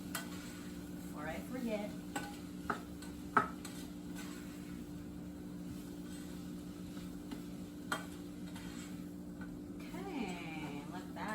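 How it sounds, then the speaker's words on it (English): Meatless spaghetti sauce simmers and sizzles softly in a pan while a spoon stirs it, with a few light knocks against the pan and a person talking briefly. "I'm gonna give a little stir"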